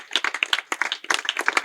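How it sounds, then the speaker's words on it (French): A group of football club players applauding themselves, dense close hand claps in uneven bursts with brief pauses, no talking. "je pense que vous pouvez vous applaudir les gars"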